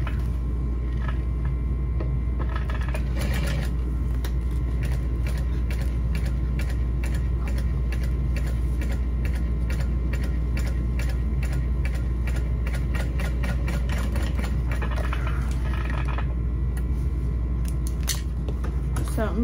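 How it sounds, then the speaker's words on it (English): A sewing machine stitching around foam in a backpack runs in a steady rapid mechanical chatter, with a few brief pauses and quick bursts at a constant moderate level. "We're going to sew around the foam at that mark."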